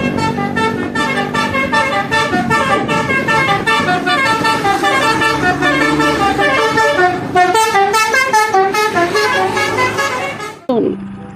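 A Palala bus passes nearby, sounding a loud melodic multi-tone horn in rapid repeated blasts almost without pause. The horn stops abruptly near the end, leaving a brief burst of road noise.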